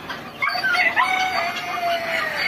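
Chickens on a poultry farm fill the air with a dense chorus of overlapping clucks and crowing, steady and fairly loud throughout, with no voices.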